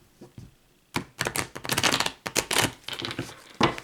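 A deck of tarot cards shuffled by hand, a run of quick riffling and slapping bursts in close succession, near and fairly loud, with brief pauses between batches.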